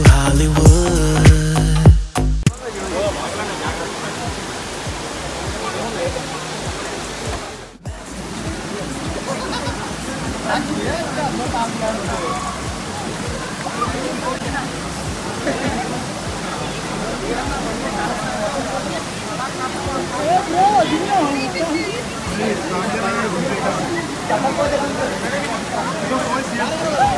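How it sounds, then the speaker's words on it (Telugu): Vibhuti Waterfalls rush with a steady, broad roar of falling and flowing water, heard up close for most of the stretch, with people talking over it after a brief, louder opening. "విభూది వాటర్ ఫాల్స్ అనేసి చెప్పాను కదా. సో ఇదే అండి ఆ ప్లేస్."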